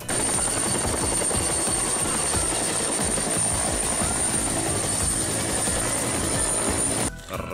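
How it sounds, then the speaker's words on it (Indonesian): A steady, loud helicopter drone with thumping rotor noise running continuously, cutting off abruptly near the end. "Widih, ada helikopter."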